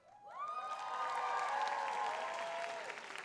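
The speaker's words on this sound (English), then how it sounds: "Give yourselves a round of applause" Applause swells from a graduation ceremony crowd, with whistles and cheering tones rising over the clapping, fairly distant and steady for a few seconds.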